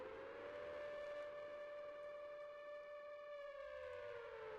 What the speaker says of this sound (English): The sirens are still going.